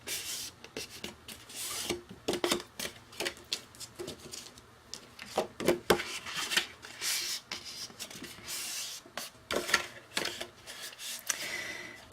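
Paper scored along measured lines with a scoring tool, giving irregular close scratchy rubs and taps in quick uneven strokes.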